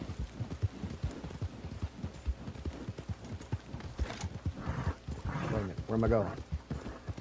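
Horse hooves in the video game Red Dead Online clip-clop in a steady, rapid rhythm under near-constant talk, with a brief whinny-like call near the end.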